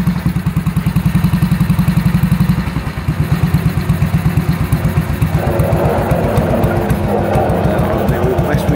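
A 1952 Matchless G80S 500cc single-cylinder motorcycle engine runs with a loud, close, rhythmic thumping and mechanical clatter, and someone speaks over it.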